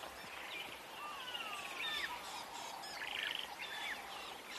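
A drongo and other birds mob an eagle on a sunset safari, a busy mix of sharp chirps, trills and rapid twittering calls overlapping at moderate distance, with no talking.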